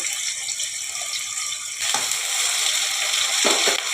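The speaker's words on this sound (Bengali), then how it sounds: "আচ্ছা এটা ভাজা হোক" Cubed potato and green chilies fry in a pan, giving a steady, close sizzle on its own, with a couple of louder stirring bursts near the end.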